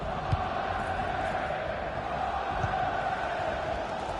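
Stadium crowd in the FIFA 22 football game, a steady distant roar of supporters cheering behind the match with a couple of faint thumps.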